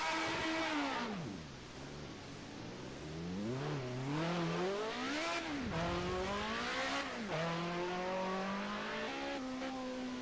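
A Ford Sierra Cosworth Group A touring race car engine revs hard at the Nordschleife, pitch climbing and dropping repeatedly through gear changes, loud and fairly close, with no talking.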